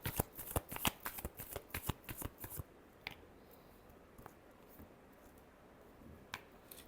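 A deck of tarot cards being shuffled up close, a quick burst of crisp riffling snaps over the first few seconds, then a few scattered single card taps against a quiet background.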